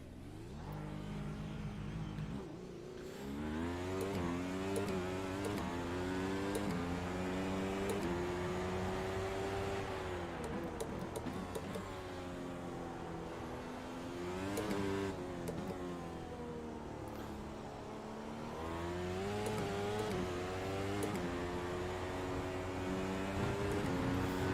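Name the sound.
F1 race car engine driving in video game iRacing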